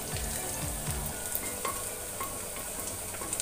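Onions sauté in a pan for biryani, a continuous soft sizzle with scraping stirs of a spatula sweeping through, steady and close, with no talking.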